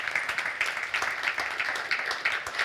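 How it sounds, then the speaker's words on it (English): An audience at a presentation gives steady, moderately loud applause, many hands clapping at once in a continuous patter with no voices over it. "Please also give her a round of applause"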